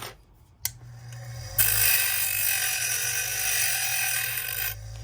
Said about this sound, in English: Now we're going to grind and smooth these edges here